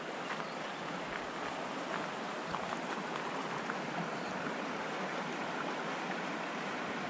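River rapids on the James River rush past an island campsite, a steady, moderately faint watery hiss and burble that continues evenly without any voices.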